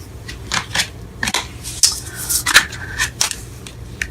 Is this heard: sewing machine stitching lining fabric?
no